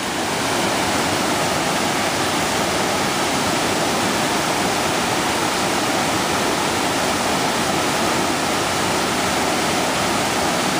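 Water rushes steadily over the shoals just above a waterfall in the North Georgia mountains along Panther Creek, a dense, full roar that holds constant and close for the whole stretch with no voices.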